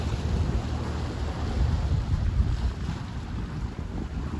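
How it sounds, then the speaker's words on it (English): Steady wind roaring across a sailboat in the Banda Sea, Indonesia, with low rumbling gusts and choppy water splashing underneath, continuous throughout with no voices. "It's pretty windy and choppy coming in"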